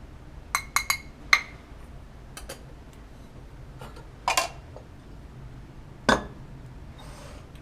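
A small scoop clinks against glassware while adding KBr (potassium bromide) powder, a few sharp bright taps in brief clusters with quiet gaps, near and clear.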